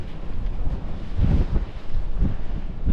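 Steady wind buffeting a microphone outdoors, a continuous low rumble with gusts swelling and fading throughout.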